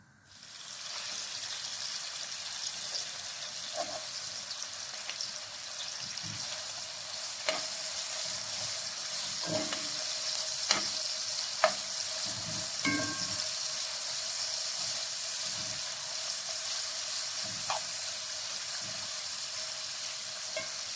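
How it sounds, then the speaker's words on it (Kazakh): Steady, bright sizzle of onions frying in a pan, continuous throughout with occasional clinks and scrapes of stirring. "Пиязымыз қуырылып жатыр."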